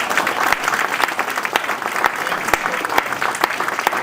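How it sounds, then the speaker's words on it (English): Audience at a policy symposium on fatherhood breaks into applause, dense clapping with sharp individual claps standing out, steady for about four seconds with faint voices mixed in. "Give yourselves a round of applause."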